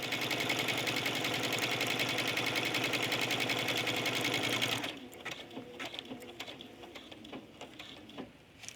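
A sewing machine stitches buttonholes on a trench coat, running at a fast, even, loud chatter for about five seconds before stopping, followed by quieter handling noises.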